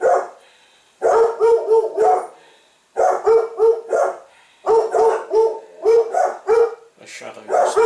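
Several dogs bark in repeated bursts of rapid, overlapping woofs, loud and close, with short pauses between volleys.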